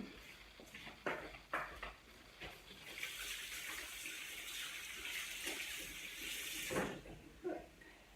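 A tap runs into a sink while hands are washed, a soft steady rush of water framed by a few quiet clicks and clatters. Faint and close, with no talking.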